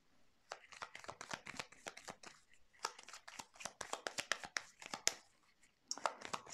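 Tarot cards being shuffled for a reading: a rapid run of dry, crisp riffling and slapping card sounds close by, with a brief pause near the middle before the shuffling resumes, no voices.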